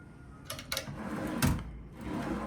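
A drawer in a deluxe studio villa hotel room at Disney's Grand Californian is opened and closed, giving a few short sliding and knocking sounds over a couple of seconds, close and fairly clear.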